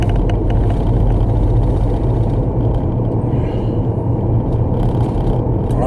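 Loud, steady low rumble of a car shaking and vibrating while driving at speed, with the drone continuing unbroken throughout.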